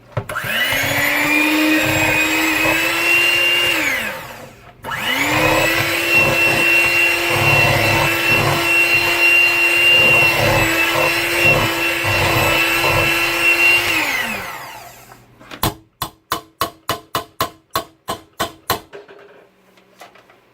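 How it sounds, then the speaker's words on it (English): A hand blender whirs loudly through thick pine tar soap in two long steady runs with a brief pause between, then a burst of rapid tapping and knocking as it stops. "I'm going to now use this. I forgot what you call it, hand mixer, hand blender, whatever."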